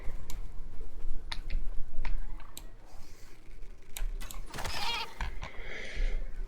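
A goat bleats in the survival video game Icarus, a brief creature call sounding among rapid keyboard clicks and in-game ambience, moderately loud and close.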